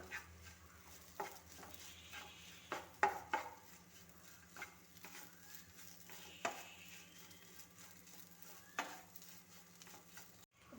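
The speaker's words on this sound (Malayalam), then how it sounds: "സോയ ഇട്ട് ഇളക്കി എടുക്കണം. എല്ലായിടവും ഒന്നുപോലെ കിട്ടത്തക്ക രീതിയിൽ ഇളക്കി എടുക്കണം." Soya chunks are stirred and roasted in a pan, a spoon scraping and clinking against the metal in irregular bursts over a faint low sizzle, close and fairly quiet.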